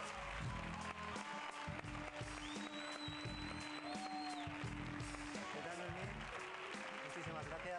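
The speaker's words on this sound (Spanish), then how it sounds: "Un fuerte aplauso para ella." An audience applauds a young woman called up on stage at a hypnosis show, a busy wash of clapping mixed with voices, cheers and stage sounds throughout.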